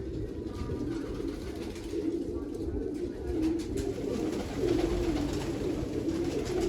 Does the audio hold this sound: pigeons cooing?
yes